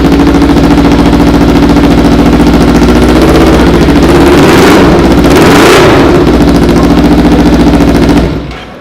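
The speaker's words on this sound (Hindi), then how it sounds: "तो थोड़ा ऑन करके आवाज़ सुनते हैं बाइक का। ये पैरेलल ट्विन सिलेंडर इंजन है।" A Kawasaki Ninja 1000 parallel-twin engine with stainless steel headers and a stainless racing muffler roars loudly and continuously, rising through a rev in the middle, then cuts off abruptly near the end.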